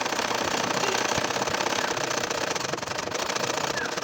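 Steady, dense mechanical whirring of an ordinary sewing machine stitching lines across a nakshi kantha quilt, continuous and close without pauses.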